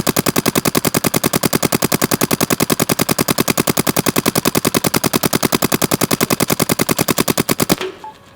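Rapid automatic gunfire in one long sustained burst of evenly spaced loud shots, fired toward the ground during an Ansgear efficiency test, stopping abruptly near the end with no talking.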